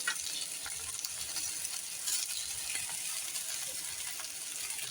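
Soaked sabudana (sago) is stirred in a pan for khichdi, giving a soft, steady hiss and low frying crackle, faint and even throughout.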